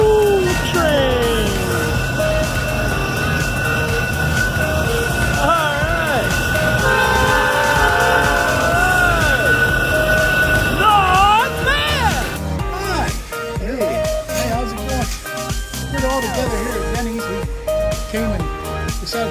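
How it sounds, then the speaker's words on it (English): Coal train passing at Horseshoe Curve, a loud, continuous rumble of rolling railcars with sustained horn-like tones in the first half, then a rougher clattering of wagons going by. "Coal train."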